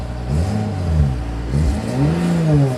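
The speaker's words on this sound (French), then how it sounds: "vous appuyez sur Start, et ensuite pied sur le frein, et là en gros, bah, là elle s'est mise en essence" Engine of a new 2022 BMW 7 Series switching over to petrol after the start button is pressed, a close, steady low hum that rises and falls gently over a few seconds with no talking.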